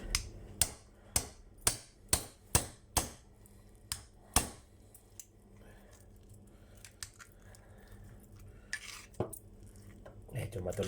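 A hammer pounds a large tuna head in a series of sharp, hard strikes, about nine in quick succession, then scattered lighter knocks and clatter with faint background noise.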